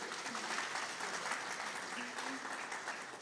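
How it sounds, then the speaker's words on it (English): Audience applause at an orchestral society's season-opening concert, a steady broadband patter of many hands clapping at moderate level with a faint voice underneath. "we need to clap"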